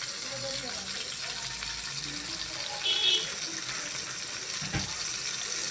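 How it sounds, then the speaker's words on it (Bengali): Fresh fish dry-frying in a pan, a steady broadband sizzle running throughout at moderate loudness with a brief sharper hiss near the middle and a small clatter toward the end. "মাছ এখনও ভালো করে ভাজি হয় নাই, আরও লালচে কালার করে নিব ভাজি।"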